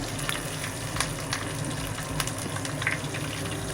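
Curry leaves and ripe red chili sauté in a pan, giving a steady, moderate sizzle and crackle with scattered pops and no talk.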